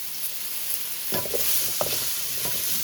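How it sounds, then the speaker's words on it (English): Cubed spaghetti squash and potatoes being stirred in a hot pan for a vegan vegetable curry, a gentle sizzle broken by a few scraping stirs midway, with no speech. "Give it a stir."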